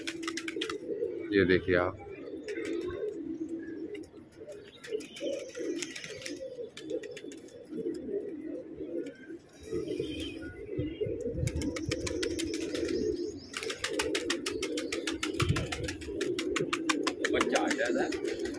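Pigeons coo softly and repeatedly at close range, with a flutter of wings early on, while people talk over them during a Holi-day pigeon catch on a rooftop.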